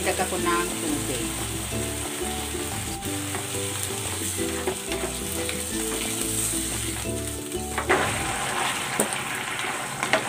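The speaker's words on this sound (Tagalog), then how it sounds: "Dadagdag ako ng tubig." Water is added to chicken cooking in a hot pan, bringing a loud hiss and bubbling sizzle with some gushing and stirring, and a sharp burst of crackle near the end.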